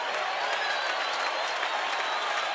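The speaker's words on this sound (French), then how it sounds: "I want to hear some clapping hands." A church congregation claps hands in a dense, steady wash of applause that holds at an even level throughout, with no voices standing out.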